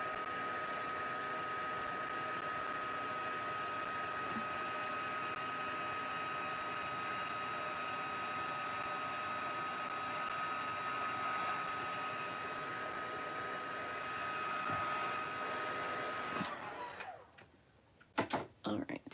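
A heat gun blows steadily while embossing white powder on black cardstock, a continuous close whirring hiss with a steady tonal whine that runs for about sixteen seconds before cutting off into clicks and handling noise.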